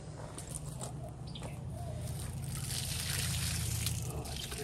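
Water from a garden hose trickles and splashes while rinsing out a used whole-house water filter cartridge in a yard, a steady pouring hiss that grows slightly louder toward the end.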